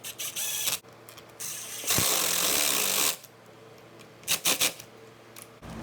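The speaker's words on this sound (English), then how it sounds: "And lock it down with our screws." Screws being driven down to secure the gas tank on an Echo weed eater: close mechanical clicking and ratcheting in short bursts, with a longer steady whirring stretch and a few sharp taps near the end.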